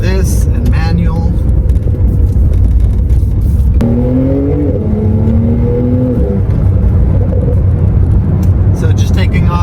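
A car in sport mode with manual shifting and a standard exhaust pulls away from a stop, a loud engine roar that climbs in pitch, drops at a shift, then climbs again, with a voice talking over it.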